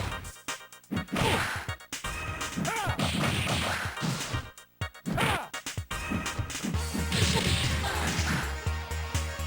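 Cyclops unleashing Optic Blast and Mega Optic Blast in Marvel Super Heroes vs Street Fighter, loud energy beam blasts with whooshing surges and impact crashes, repeated in waves alongside game music and a voiced callout.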